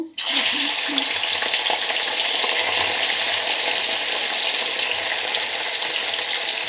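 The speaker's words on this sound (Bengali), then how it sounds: "আদা রসুন পেঁয়াজ মিট সব একসাথে দিয়ে দিচ্ছি" Ginger, garlic, onion and meat dropped together into hot oil in a pan, bursting into a loud, close, continuous sizzle that holds steady with occasional stirring scrapes.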